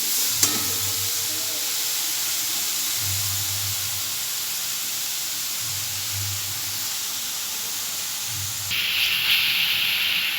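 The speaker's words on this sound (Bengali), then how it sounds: "দিয়ে এবার ভালো করে এটাকে কষিয়ে নেব।" Turmeric and a good amount of dry red chillies fry in a pan of oil for a potato, pointed gourd and prawn curry, giving a steady close sizzle and hiss with soft stirring. The hiss turns brighter and louder near the end.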